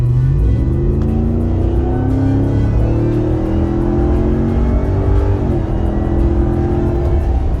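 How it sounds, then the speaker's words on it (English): A loud supercharged engine in a 2021 Dodge Ram TRX truck accelerating, heard from inside, its pitch climbing steadily with a rising supercharger whine over a deep roar, with a brief shift midway. "every time you get on it and you hear that supercharger whine"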